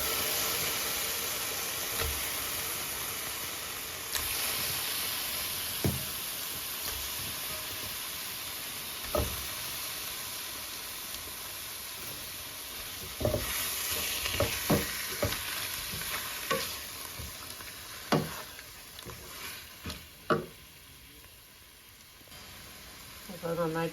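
Cleaned prawns for a Kerala-style prawns roast sizzle steadily in a hot pan, broken by sharp scraping clicks of a spoon stirring, denser toward the end, with occasional talk underneath.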